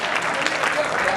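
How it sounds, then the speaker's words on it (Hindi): Dense, steady applause from a conference audience in a hall, loud and continuous for a brief moment with no pauses. "जोरदार तालियां हो जाए।"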